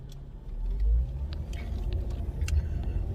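A car drives in road traffic with a low, steady interior rumble and soft engine hum, plus a few faint clicks and bumps over the road.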